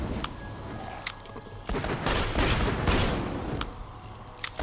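Gunfire in the video game Borderlands 2: several sharp, close shots at the start, then a dense rattling burst of rapid fire that swells and fades, with a few more single cracks near the end.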